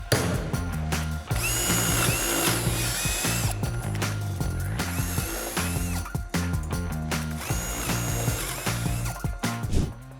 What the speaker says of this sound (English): clamp them down to our work surface so we can drill all the holes